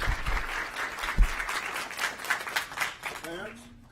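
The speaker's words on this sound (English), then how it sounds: "Let's get a round of applause" School board meeting audience giving a round of applause, dense clapping from many hands fairly close, fading toward the end as a voice begins to speak.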